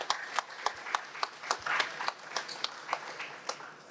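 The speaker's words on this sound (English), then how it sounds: "Let's give a round of applause for Serge" Audience applause after a speaker's call at an extraction-industry talk, a faint, scattered patter of claps from a small crowd, fairly distant and thin.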